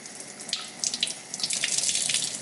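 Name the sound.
tap water running while wetting a makeup blending sponge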